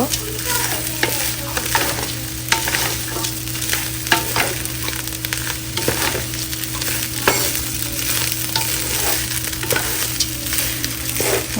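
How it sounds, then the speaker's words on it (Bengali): Biryani meat frying in a pot while being stirred, a dense, steady sizzle close up with repeated scraping stir strokes throughout and no talking. "একটু ভাজা হলেই তো চলে যাবে বিরিয়ানির মাংস।"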